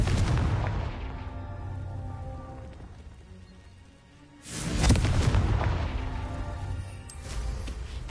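Confringo blasting spell explosions in the game Hogwarts Legacy: a loud rumbling blast that slowly fades, then a second sharp, heavy boom midway with crackling debris trailing off, close and without talk.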